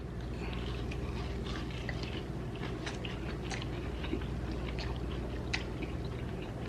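Someone chews a chewy, crispy cookie baked inside a Range Rover, with soft crunches and moist mouth sounds over a low steady hum, close and continuous with no talking.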